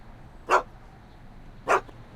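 Two short sharp barks from a dog in the Back to the Future adventure video game, spaced about a second apart over a quiet low background hum.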